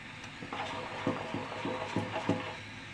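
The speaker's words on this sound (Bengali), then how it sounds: "দুই চামচ চকলেট পাউডার দিলাম এখন একদম অনবরত নাড়তে হবে" Chocolate powder is stirred into cake batter, giving soft, rhythmic scraping strokes of a spoon against the bowl at a steady pace, close up over a low background hiss.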